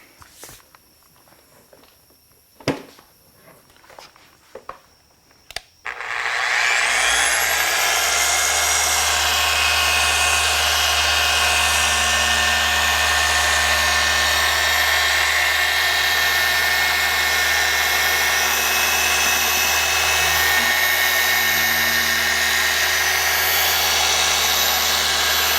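Car polisher buffing compound on the paint of a Porsche GT3, starting with a few handling knocks and scrapes, then spinning up into a loud, steady whine and hum that holds for the rest of the clip.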